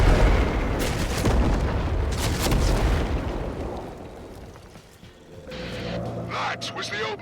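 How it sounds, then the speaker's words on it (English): Heavy booming blasts of Magvo's cannon in the Warframe video game, loud and continuous for several seconds before fading, with lighter game sounds and a voice talking near the end. "That was the old Magvo's cannon."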